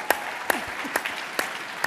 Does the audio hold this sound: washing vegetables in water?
no